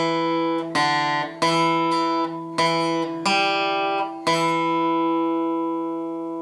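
Acoustic guitar playing the riff from a song, a series of ringing picked notes on the fourth string with an open string sounding beneath, steady and close, the final note sustaining and fading.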